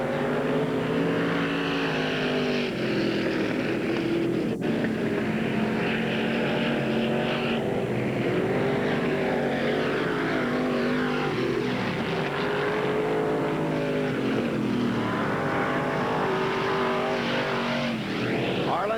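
Late model stock cars race around an oval track at the Col C's Speedrome in 1981, their engines droning continuously and loudly, rising and falling as the pack laps past, with no talk heard.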